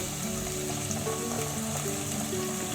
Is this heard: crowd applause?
no